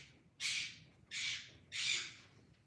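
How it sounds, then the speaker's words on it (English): Pet birds indoors let out three loud, harsh squawks in a row, each lasting about half a second, with short pauses between them. "I have birds. Sorry about that. They're making noise."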